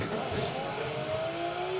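Engine revving continuously as a rear-wheel-drive car holds a long handbrake drift on the Maple Valley track in Forza Motorsport 3, a steady loud roar with rising tonal whine and no break.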